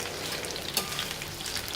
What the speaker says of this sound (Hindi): अब मैं इसको थोड़ा सा ढक के पकाऊंगी